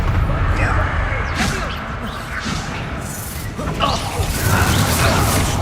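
A fire curse spell bursts during combat in Hogwarts Legacy, a loud crackling blast and whooshing impacts layered over dense game noise and music, with a voice speaking nearby.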